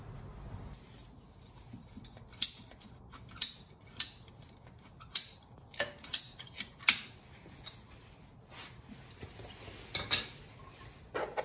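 Scissors snip through an upper coolant hose during an air-oil separator install on a 2015+ Subaru STI, giving about eight to ten sharp, close cuts at irregular intervals over faint background noise.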